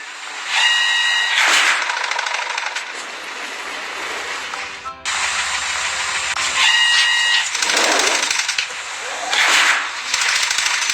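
In a children's cartoon, a track laying machine sets down rails and sleepers with loud mechanical rattling and clanking bursts, broken by short chiming tones and a brief pause in the middle.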